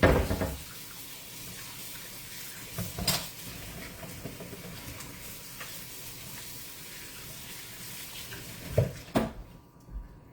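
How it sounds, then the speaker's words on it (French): Hands washed under a running kitchen tap while making no-bake brownie balls: a steady, fairly faint hiss of flowing water with a few louder splashes and clatters near the start and end. "Je me lave les mains"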